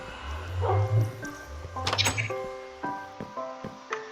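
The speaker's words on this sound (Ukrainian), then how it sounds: "В мене є також песики." Pet dogs in the video game Minecraft give short barks and yips among clunky in-game thuds and chimes, fairly close, with a voice talking at times.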